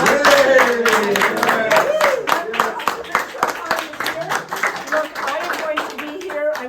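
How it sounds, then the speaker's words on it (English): Clapping from a crowd at a Liberal provincial candidate's campaign event, loud and close, mixed with talking voices throughout. "let's give a big round of applause for Paulo Pereira"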